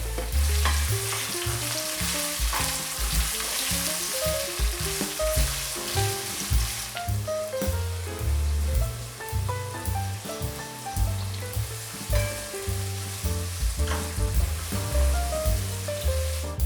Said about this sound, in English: We need to fry these onions under medium heat until they become golden brown.